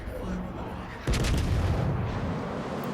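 Naval guns fire in the World of Warships Legends video game, one heavy boom over a constant roar of game background noise.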